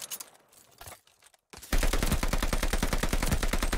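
Call of Duty Vanguard gunfire in a 4v4 Search and Destroy match starts after a short silence and continues as a dense, loud automatic burst of rapid shots.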